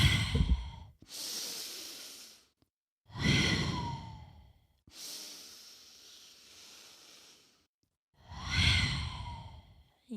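Deep, slow breaths during a prenatal yoga session, close and alone: long audible inhales and exhales alternating in a steady rhythm, each lasting a couple of seconds with brief silences between.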